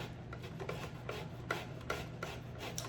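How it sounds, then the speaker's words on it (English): Lemon being zested on a grater, a rhythmic series of close rasping strokes about every few tenths of a second over a low steady hum, no talk. "We're going to get some lemon zest and some lemon juice in here."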